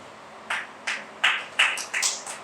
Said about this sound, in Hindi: तालियों में कंजूसी नहीं करिए